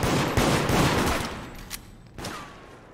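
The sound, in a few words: gunfire in the video game Deceit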